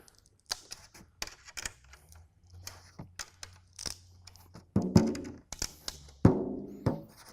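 Taps around a 10-inch hanging rack tom drum head during tuning, a series of short dull thunks at uneven intervals, with a couple of louder, ringing hits near the end.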